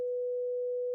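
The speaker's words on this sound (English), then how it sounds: "Let's work with, say, a sine wave on this one, just sine" A steady pure sine-wave tone from a synthesizer oscillator holds at one pitch for the full second, clean and constant with no other sounds.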